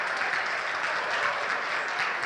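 Steady applause from a workshop group at a team-spirit training session, dense continuous clapping at moderate distance with no talk over it.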